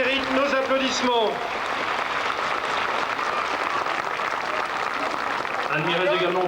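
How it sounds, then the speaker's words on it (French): Steady crowd applause for the municipal wind band of La Gorgue at an outdoor historical pageant, a dense continuous patter with voices at the start and end. "Bravo, il mérite nos applaudissements."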